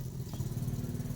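A Yamaha Mio 125 scooter engine idles steadily while warming up, a low continuous mechanical hum with a faint rhythmic pulse, close and alone.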